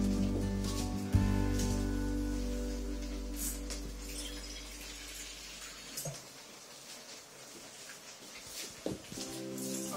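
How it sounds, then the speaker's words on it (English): Water runs steadily at close range for several seconds into a cooking pot of beans and potatoes, then trails off and a few small knocks and splashes follow. "You can top with a little water."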